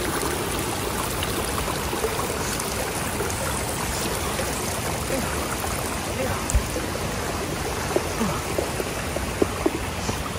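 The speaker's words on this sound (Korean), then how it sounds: "또 쬐깐한 개울을 이쪽으로 도하를 합니다." A small forest creek deep in a steep mountain valley flows in a constant soft rush and trickle, close and even, with occasional small splashes.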